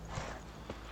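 A brief, close pair of hoof clops from Roach the horse in The Witcher 3, muffled and soft against quiet game ambience.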